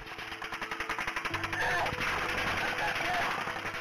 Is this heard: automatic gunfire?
yes